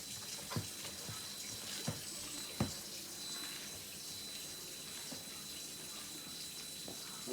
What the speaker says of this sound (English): Next thing, run the water hot.